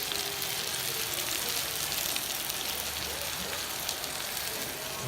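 Shallots hit a hot pan already seasoned with garlic salt for white spaghetti, giving a steady, dense sizzle that runs unbroken and fairly loud through the whole stretch.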